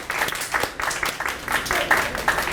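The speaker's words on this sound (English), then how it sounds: "So let's give a big round of applause to the Bumblebees." Scattered clapping from an audience at a YMCA annual meeting, uneven bursts of hands rather than a full roar, moderately loud and brief.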